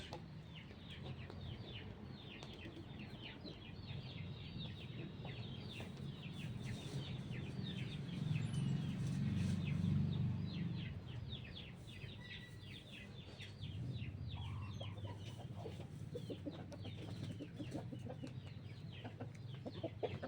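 Chickens and a rooster of the Undertaker line cluck on and off under a steady faint background, with no voices.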